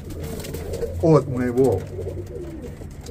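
Elite rock doves coo in two short throaty rolls close by, with someone talking softly under and around them.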